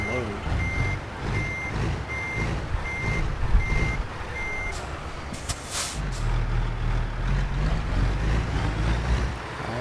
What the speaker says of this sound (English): I gotta see if you can hear the motors because these Peterbilts sound so awesome.